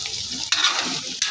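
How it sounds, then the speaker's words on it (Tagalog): A pan of onion, garlic, ginger and crushed pepper sautés close up with a steady hiss and sizzle, broken by brief stirring scrapes. "nagisa-gisa lamang ako ng maraming sibuyas, bawang, luya, saka pamintang durog"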